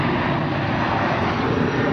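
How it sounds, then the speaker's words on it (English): Fixed-wing airplane passing overhead near a small military base, a steady, fairly loud broadband engine roar filling the whole stretch without any talk. "So there's a plane going overhead."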